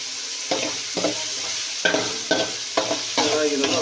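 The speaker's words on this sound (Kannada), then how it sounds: "ಅದನ್ನು ಚೆನ್ನಾಗಿ ಫ್ರೈ ಮಾಡ್ಕೋಬೇಕು" Onion and tomato fry in a pan under a steady sizzle, while a spoon scrapes and stirs in repeated, rhythmic strokes close by.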